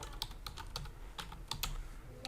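Quick, light key clicks from a laptop or PC keyboard as a file name is typed, a brief irregular burst of close, crisp taps in a quiet room.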